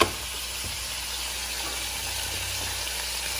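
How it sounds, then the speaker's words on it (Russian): Pollock fillets frying in a pan, a steady, soft hiss of sizzling oil that runs evenly throughout with a faint clink near the start, close and fairly quiet with no talking. "И рыбу жарю."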